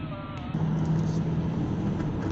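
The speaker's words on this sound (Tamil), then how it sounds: "இன்று ஃபுல்லாகவே நல்ல டிராஃபிக் ஜாமாக இருக்கிறது அந்த காட்சியை தான் இப்போ நீங்கள் பார்த்து கொண்டிருக்கிறீர்கள்" Road traffic crawling in a jam in Kuwait near the Fifth Ring Road and Jahra Road, on a rainy day: a steady, close engine rumble and hum of idling and slowly moving cars, continuous throughout.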